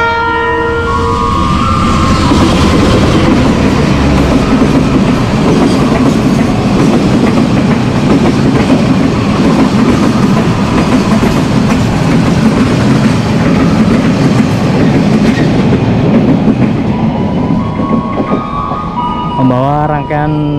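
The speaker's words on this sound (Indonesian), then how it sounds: "Kereta api Serayu tunggu bersilang kereta api Pangandaran" A passenger train rumbles past at close range on an Indonesian railway, a steady loud roar of wheels and carriages that fades toward the end, with a horn-like tone at the finish.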